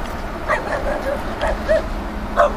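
Two puppies yip and whimper in short, high, repeated cries over a steady low background hum, fairly close.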